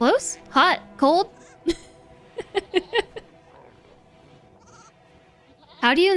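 A few short, bright sheep bleats come in quick succession at the start and return at the end, with some clicks and a brief voice in between. They sound like in-game animal calls from RimWorld Odyssey.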